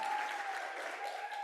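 Brief, steady clapping from an audience at a school oratorical competition, a moderate wash of many hands heard alone.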